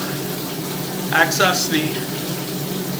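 Water runs steadily during drain line work at a house, a constant rushing flow with a few louder splashing surges in the middle while someone speaks briefly.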